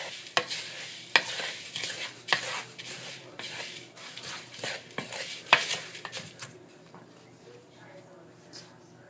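A mixture stirred close up with a wooden spoon: irregular scraping strokes with occasional sharp knocks against the bowl, fairly loud, then fading to quieter rubbing.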